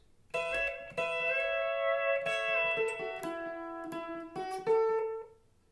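Pedal steel guitar playing a short melodic phrase from a country solo, with sustained sliding notes and pedal bends, several plucked attacks ringing out clearly and alone.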